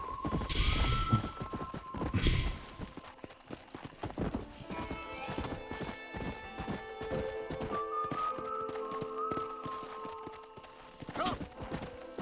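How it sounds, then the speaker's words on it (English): Horse hooves clip-clop steadily in Red Dead Redemption on Xbox 360, a brisk rhythmic trot heard close and fairly loud, with a whinny early on and faint game ambience beneath. "My horse is down here somewhere."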